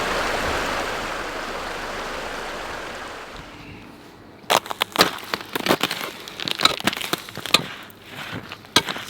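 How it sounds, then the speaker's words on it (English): Meltwater pours across a frozen Maine lake in a steady, rushing stream that dies away midway, followed by a series of sharp, close cracks and clicks. "Well, all this water is going right on the lake. It's a river."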